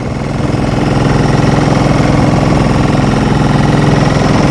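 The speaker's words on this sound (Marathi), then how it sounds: "इंजिनचा आवाज येतोय म्हणून थोडासा मोठ्याने बोलतो" A fishing boat's engine runs steadily and loudly up close, a dense, even mechanical drone with a throbbing low rumble that holds from start to finish.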